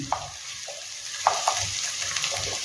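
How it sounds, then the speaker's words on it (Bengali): Ginger and garlic fry in a pan for a Mughlai chicken dish, giving a steady close sizzle broken by a few scraping stirs of a spatula, with no one talking. "এবার আদা রসুনটাও আমি একটু ভেজে নিয়েছি।"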